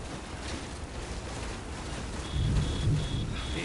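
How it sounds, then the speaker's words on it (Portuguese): Rain and thunder in the video game Death Stranding: a steady, dense rain hiss with a low thunder rumble swelling louder in the final second or so. "Ih, chuva de novo."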